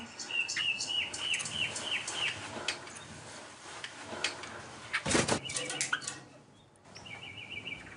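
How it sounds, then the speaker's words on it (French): A nightingale and a sparrow chirp and trill in quick repeated phrases nearby, with a brief burst of rustling or flapping in the middle and no talking. "Madeleine Riffaut passe des heures à écouter le rossignol et le moineau thaïlandais faire leur gamme."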